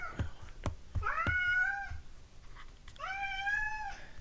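Pet cats meow in two drawn-out, rising-falling calls, one after the other, close by and fairly loud. A few soft knocks and thuds come before the first call. The cats are in some pain after getting staples.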